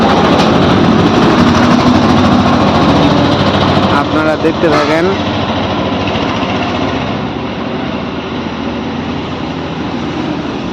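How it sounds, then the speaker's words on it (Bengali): A vehicle-mounted grain-milling machine fitted with a 36 engine runs with a loud, steady mechanical drone, continuing throughout while someone talks over it. "এটা গাড়িতে ছত্রিশ ইঞ্জিন দেওয়ানো আছে"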